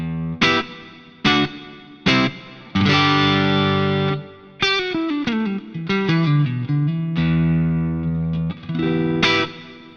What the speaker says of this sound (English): If you listen to this amp with the master quite low and the power section off, it's quite a spiky sound.